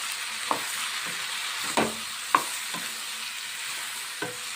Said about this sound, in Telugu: టమాటా ముక్కలు వేసుకొని ఒకసారి కలుపుకోండి.